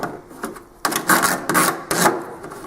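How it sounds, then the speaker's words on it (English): Knife blade scraping old primer off metal, close loud rasping strokes, a short one followed by three longer repeated scrapes with brief gaps between them. "just scraping the old primer off"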